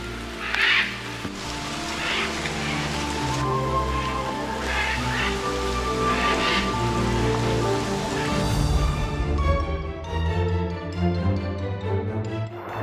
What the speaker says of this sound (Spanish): Está comenzando a llover muy fuerte en la selva.